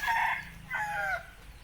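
A brood stag rooster crows twice in close succession, each call loud and near with a rising then falling shape. A short pause separates the two crows, with no talking.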